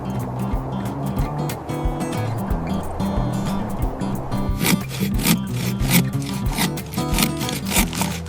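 A hand saw cuts through wood outdoors on a bitter cold night, rapid rhythmic rasping back-and-forth strokes, close and steady, growing a little harsher and brighter partway through.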